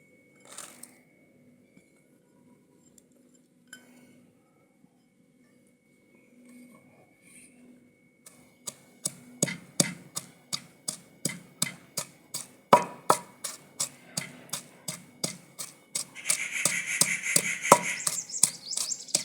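Steady rhythmic pounding of ginger and green chilli in a mortar, a long run of sharp thuds that starts after a quiet stretch and speeds up toward the end, close and clear.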